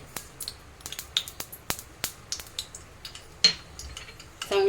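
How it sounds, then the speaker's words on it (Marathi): Sharp crackles and pops in irregular bursts as mustard seeds splutter in hot oil, close by with quiet gaps between them and a louder burst at the end. "तेल गरम झालेलं आहे मी आता मोहरी टाकते"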